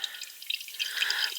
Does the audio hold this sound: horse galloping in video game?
no